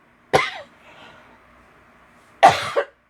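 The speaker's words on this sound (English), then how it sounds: "Oh, I don't know why I'm coughing now," A woman coughs twice, once near the start and again about two seconds later, each a loud, close burst with a short tail, with near silence between them.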